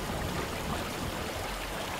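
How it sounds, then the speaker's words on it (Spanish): Steady, close running water in the video game Murdered: Soul Suspect, a constant broadband rush like a stream or pouring tap that holds level throughout with no pauses. "¿Y ese agua? ¿Que suena así de repente?"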